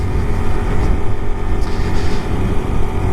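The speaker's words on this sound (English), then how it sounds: "we're just buzzing along at 45 miles per hour" A 2024 Honda Super Cub C125 engine hums steadily cruising at 45 mph, with rushing wind noise across the microphone; no voices.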